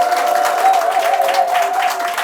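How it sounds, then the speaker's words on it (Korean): An audience at a business seminar claps and cheers steadily and close-up, a dense continuous wash of hands with a sustained tonal hum running underneath. "엄청 많이 오신 것처럼 환호를 해주시네요."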